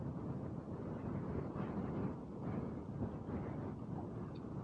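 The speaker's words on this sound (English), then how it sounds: "good Lord, it is windy." Steady, roaring wind buffeting the microphone while riding an electric unicycle, a continuous low rumble with no voices.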